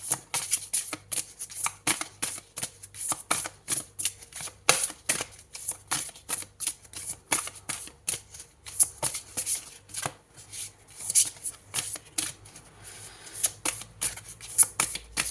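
A deck of tarot cards is shuffled by hand nearby: rapid, crisp riffling and flicking in repeated bursts over about fifteen seconds, with short pauses between runs.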